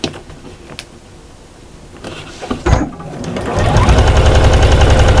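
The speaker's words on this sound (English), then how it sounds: "We're stitching all the way down and across the dash line." A sewing machine stitches a Santa gnome cushion. Quiet handling and a few clicks come first, then the motor starts and runs as a loud, steady mechanical whir for the last couple of seconds.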